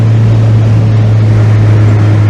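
Mazda Miata engine with a small exhaust leak, a loud, steady low drone held at constant revs, with no voices over it.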